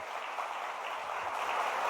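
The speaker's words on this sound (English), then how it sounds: "Let's give another round of applause for Charles." Audience applauding at the end of architect Charles Durrett's cohousing talk on homelessness at a Spokane library, a steady wash of clapping that holds for the whole stretch without voices over it.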